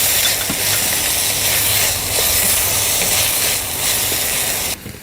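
Chopped tomato hitting a hot pan with onions and spinach in a home kitchen, a loud continuous sizzle and hiss that holds steady for several seconds before dropping off abruptly at the end.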